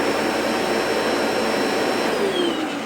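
A Bissell carpet cleaner gives a loud, steady motor roar with a high whine on top, running continuously without pause, droning close by.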